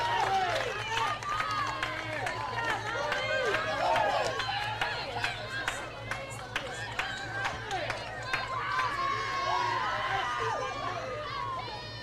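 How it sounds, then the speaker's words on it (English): At a college softball game in Waleska, Georgia, the crowd and dugout cheer and shout after a double play, a steady roar of voices with claps over a constant low hum, while an announcer talks over it. "The dugout and the crowd all fired up about that."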